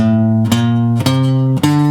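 A guitar plays a natural minor scale in a few sustained single notes in steady succession, each picked cleanly and ringing until the next.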